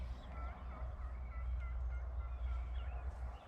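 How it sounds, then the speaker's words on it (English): Wild turkeys gobble faintly in the Wisconsin woods during a spring hunt, distant calls rising over a steady low rumble of wind and background noise. "They're gobbling."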